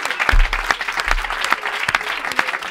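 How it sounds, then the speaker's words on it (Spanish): Loud, dense applause from a studio audience on a Spanish comedy show as the bride comes forward, with crisp overlapping claps and a few low thumps near the start. "Un aplauso para la novia."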